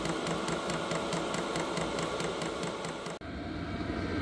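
A Hcalory HC-A01 diesel heater runs with its fuel pump ticking in a steady, fast rhythm over a constant fan hum, close and alone, with a brief dropout near the end.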